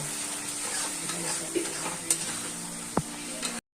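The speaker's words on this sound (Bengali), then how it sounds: "দিয়ে আমি মশলাটাকে ভালো করে একটু কষিয়ে নেব" Spice masala with a little sugar and salt is stirred and sautéed in a pan while papaya dhoka is cooked, giving a soft, low sizzle under several sharp spoon scrapes and taps close by.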